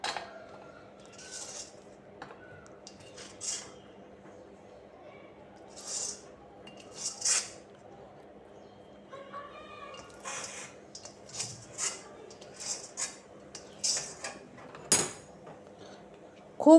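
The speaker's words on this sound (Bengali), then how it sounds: "এবার আমি বাদামটা থালায় ঢেলে নিলাম" Peanuts tumbling onto a metal plate for peanut brittle give a scatter of short, bright clinks and rattles spread across the clip, close and moderately loud, with a low steady hum beneath.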